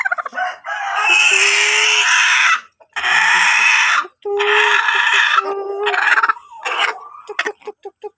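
Rhode Island Red and Basilan crossbreed chickens cluck and crow loudly and close by, long raspy calls broken by short gaps and a few quick clucks near the end.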